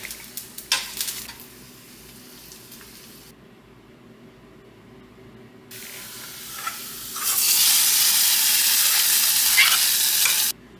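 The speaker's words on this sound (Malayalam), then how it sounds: "നമുക്ക് വെളിച്ചെണ്ണയിൽ ചെറിയ ഉള്ളി വഴറ്റിയിടാം" A few utensil clatters, a short quiet pause, then a loud, steady sizzle of shallots sautéing in hot coconut oil in a pan close by.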